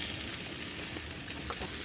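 Chicken pieces frying in their own rendered fat, with no added oil, give off a quiet, steady sizzle and crackle that runs continuously without a break.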